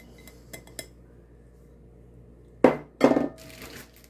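A metal spoon clinks and scrapes against a bowl while mixing hash brown casserole ingredients such as Colby jack cheese and chopped onion: a few faint taps first, then two louder, clattering bursts close by.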